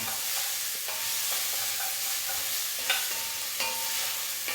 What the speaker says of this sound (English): you want to sweat these, which means to cook them over a lowish heat until they are softened but not brown